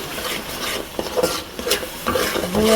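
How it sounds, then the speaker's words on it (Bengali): Duck meat with cumin, cardamom, cinnamon and other spices stirred in a pan, a steady scraping and rubbing stir over a soft sizzle, close and fairly loud throughout. "ভালোভাবে নেড়ে নিব"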